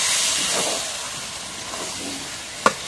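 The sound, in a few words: stirring mutton curry in a hot pan, sizzling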